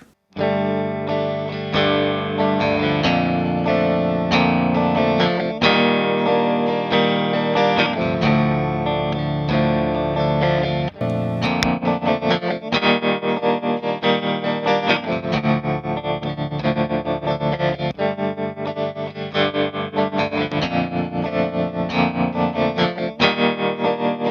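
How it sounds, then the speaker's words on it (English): A looped clean electric guitar phrase plays from the middle pickup of a J Mascis Jazzmaster through an Ibanez TSA15H tube amp, the chords ringing steadily and repeating in even cycles, loud and alone. "This is the middle pickup of my J-Mascis Jazzmaster, going completely empty through the board into my Ibanez TSA 15H."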